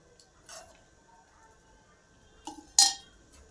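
A metal lid is set on a pot of spicy drumstick (moringa pod) curry simmering in masala: a soft clink early, then a louder clattering clink a couple of seconds later, over a quiet background.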